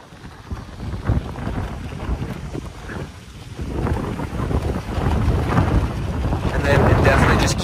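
A Shibumi beach shade canopy flaps in steady ocean wind, its fabric rustling and buffeting close by amid continuous wind noise on the beach.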